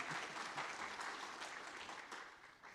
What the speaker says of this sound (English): That was just me bringing my hands together